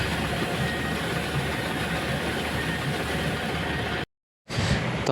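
Wheat harvesting cutter machine running in a farm field, a steady loud mechanical drone with broadband rattle, cut by a short dropout before resuming.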